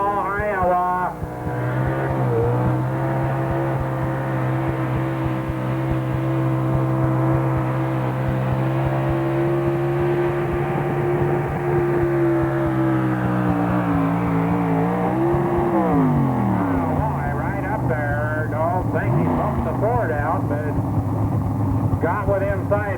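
A race car with a small Dodge engine runs in competition, its loud sustained engine drone holding a steady pitch before shifting up and down as it works through the run, with a commentator talking over it.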